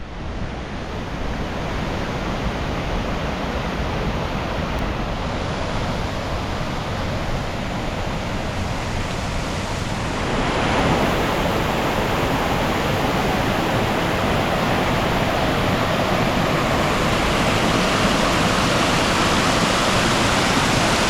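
Glenbranter waterfall pouring steadily in the rain, a dense, constant roar of falling water close by that swells a little louder about halfway through, with no voices.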